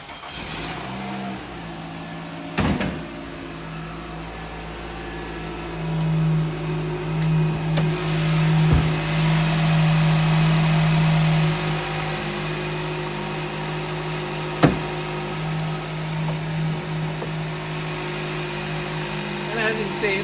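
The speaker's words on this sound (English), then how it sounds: "Go ahead and start the engine up, and we'll give you a look out under the hood." A 2017 Nissan Rogue with a 2.5 liter 4-cylinder engine starts with a brief crank, then settles into a steady low idle that continues for the rest of the clip.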